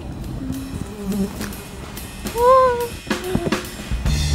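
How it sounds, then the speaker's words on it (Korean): Insects buzzing at an outdoor night spot, faint whining hums and a few brief nearer buzzes over a noisy background. "아, 모기가 많아서"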